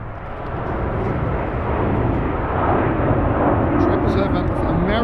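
An American Airlines plane taking off at a freezing Frankfurt Airport, a loud continuous jet roar that swells slightly over the seconds, with a voice talking over it.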